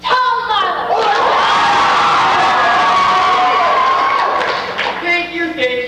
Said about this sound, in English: Let's give a big cheer to this year's Bingham Foundation nominee award, Tom Marlowe.